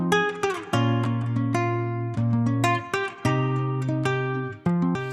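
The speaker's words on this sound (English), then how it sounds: "And I started with this guitar right here," Clean plucked guitar melody at a relaxed Afrobeat tempo, bright, close notes in a repeating phrase that ring and overlap, played alone.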